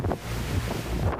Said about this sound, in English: Storm Eunice batters the UK with powerful winds causing death,